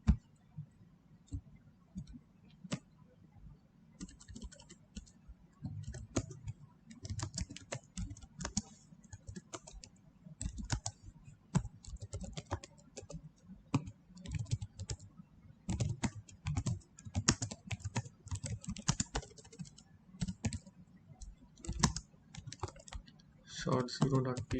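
Fingers type steadily on a computer keyboard while entering data for a file, producing a dense stream of close, crisp key clicks with brief pauses throughout.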